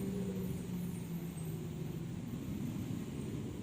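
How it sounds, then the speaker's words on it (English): Faint, steady low rumble of a noisy truck passing outside a restorative Iyengar yoga class, a dull drone with a slight tonal hum and no voices. "here comes this noisy truck again"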